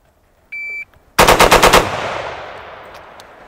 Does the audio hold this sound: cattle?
no